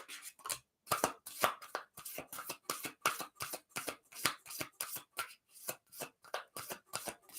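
Oracle cards being shuffled by hand, a steady run of crisp riffling swishes in a regular rhythm, close and clear with no voices.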